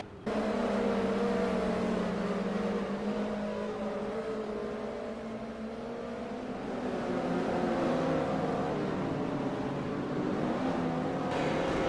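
Race cars lapping the track in an OARL race at York, a steady massed engine drone with rising and falling pitch as the pack circles at a moderate distance, continuous throughout.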